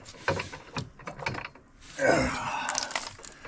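Hand ratchet clicking in short bursts while the bolts of a rear bumper are tightened on a 2023–2024 CF Moto, close by with brief pauses, then a longer steady run of ratcheting near the end.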